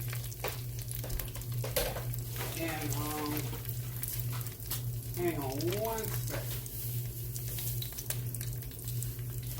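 Continuous crackling sizzle of hush puppies frying in hot oil, with a steady low hum underneath and someone speaking briefly over it.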